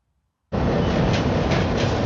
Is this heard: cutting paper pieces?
no